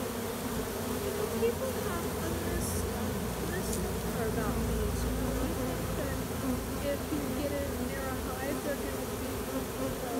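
A honeybee swarm drones with a steady, dense buzz during a swarm rescue in West Jordan, Utah, many insects humming close by for the whole stretch, with individual bees darting past and no voice.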